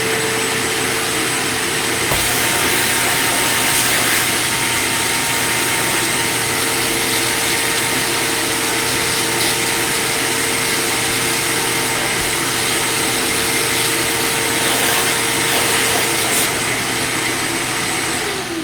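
A small vacuum runs with a steady, loud whine as it clears debris from freshly drilled holes in a ski during binding mounting. The drone holds unbroken for the whole stretch with no talk over it.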